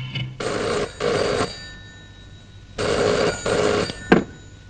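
An old-style telephone bell rings in two long bursts, each made of a pair of rapid jangling rings, loud and close indoors, followed by a sharp click as the receiver is lifted.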